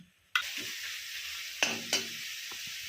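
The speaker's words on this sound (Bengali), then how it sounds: "টমেটো কুচিটা দিয়ে সব মশলাগুলো ভালো করে ভেজে নেব।" Spices and chopped tomato frying in a pan for egg curry, a bright sizzle that starts suddenly and carries on steadily, broken by a couple of stirring scrapes and knocks.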